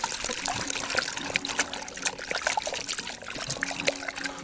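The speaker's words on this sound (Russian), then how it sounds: "Сейчас мы его перемешаем с водой." Liquid feeder-fishing bait attractant made on invert syrup, thick and jelly-like, being mixed into water: a steady close trickling and sloshing with small splashes throughout, no voices.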